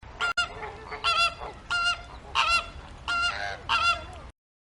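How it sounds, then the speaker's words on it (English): A flamingo gives six goose-like honking calls in a steady series, near and clear, each a short nasal burst separated by pauses. "Flamingo."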